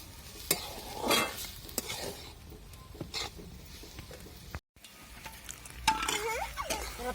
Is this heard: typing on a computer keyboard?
no